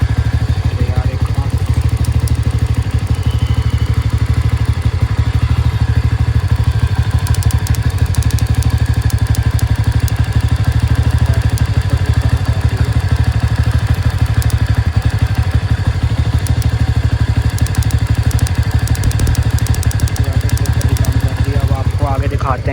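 A TVS Ntorq scooter engine fitted with a flame kit runs at a loud, steady idle with a constant low throbbing drone and some faint clatter throughout.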